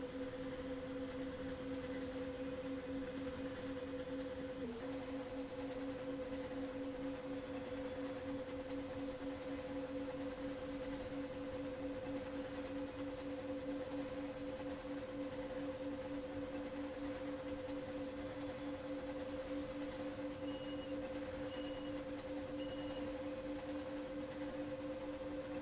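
A train runs along the Munich–Augsburg main line in the game Train Sim World 2, cruising at high speed with a steady two-tone electric whine over a constant rolling hum that continues without a break.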